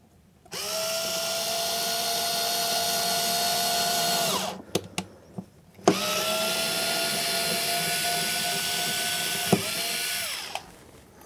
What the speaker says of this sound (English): get my screwdriver so I can drill this little hole kind of quick